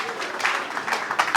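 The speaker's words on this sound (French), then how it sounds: "applaudissez pour le couple" Guests at a civil wedding ceremony clap for the newlywed couple, a short burst of moderately loud applause from a small crowd.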